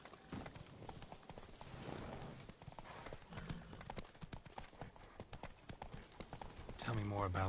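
Roach the horse trots along in Witcher 3, its hooves clip-clopping in a steady, moderately loud rhythm that runs through the whole stretch, with speech from the game and a player heard over it.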